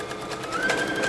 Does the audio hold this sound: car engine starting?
no